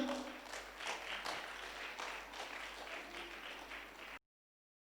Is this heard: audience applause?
yes